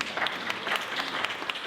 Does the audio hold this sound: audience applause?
yes